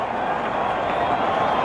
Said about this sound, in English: Their supporters in the crowd are delighted.